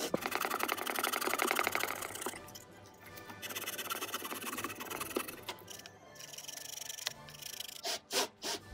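A fine-toothed coping saw rasps back and forth through a cracked vinyl car dashboard, a steady close scraping rhythm that pauses briefly, resumes, then breaks into a few separate strokes near the end.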